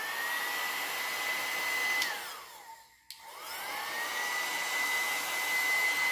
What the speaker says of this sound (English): I'm just drying with a little hair dryer, and it's on low.